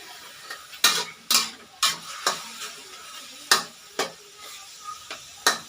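Chinese kale and tomato are stir-fried in a pan over a steady sizzle, with repeated sharp scrapes and clanks of a utensil against the pan at an irregular rhythm, close and fairly loud.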